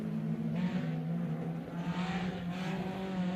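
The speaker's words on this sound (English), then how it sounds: "You could hear the throttle." Race car engine on a speed ring track during a live quarter-final bracket event, a steady loud drone with rising throttle revs, close and continuous throughout.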